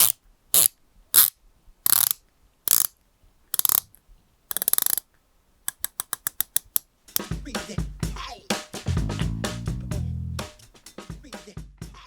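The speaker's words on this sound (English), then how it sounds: "The bezel on this watch is really fun. The clicks are quite satisfying and have a lot of pop to them." The rotating bezel of a Seamaster 300M diver watch gives crisp, sharp clicks, first as single spaced clicks, then in a fast run of ratcheting clicks, close up and with a busier mechanical clatter toward the end.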